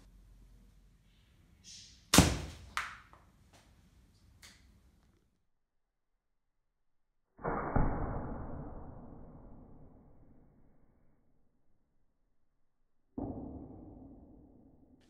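A slingshot with an AR15 grip test-fires a 6mm Nylock nut: a sharp snap and rattle, then two later loud thwacking impacts, each with a ringing decay, separated by long silences.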